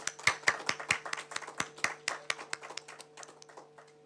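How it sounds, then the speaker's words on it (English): Sparse clapping from a small audience at a robotics and automation workshop honouring a guest, a few pairs of hands slapping in a loose, uneven rhythm that thins out over four seconds, with a steady electrical hum beneath. "Please give a round of applause and honor our esteemed guest."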